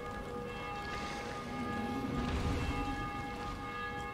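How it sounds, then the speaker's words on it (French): Church bells ringing across a ruined city in the zombie game Dying Light, a steady, sustained metallic tone that hangs over a low, rumbling ambient bed without any talk. "on entend les cloches dans la ville"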